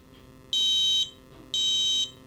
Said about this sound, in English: That's the buzzer because I switched my failsafe on.